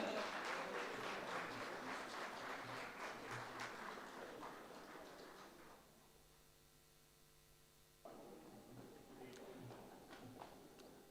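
An audience at an International Women's Day ceremony gives a round of applause for a woman, steady clapping that fades to near quiet, then resumes more faintly at the end.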